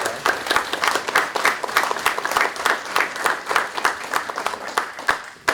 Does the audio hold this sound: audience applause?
yes